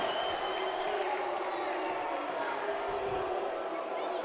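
Crowd at a girls' high school basketball game reacting to a foul call, a steady murmur of voices and scattered noise filling the gym, moderately loud and continuous.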